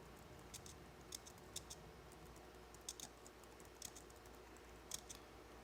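Typing on a computer keyboard: quiet, irregular little clusters of key clicks over a soft background hum, close to the microphone, with no talking.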